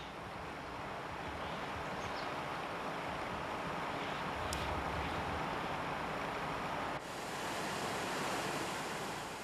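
Jikso Falls in Byeonsan pours down into a deep pool below, making a steady, broad rushing roar that holds unbroken throughout with no voices.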